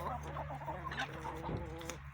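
Hens clucking in a chicken coop with newly hatched chicks nearby, soft continuous clucks and low murmuring calls close by, with a steady low hum underneath.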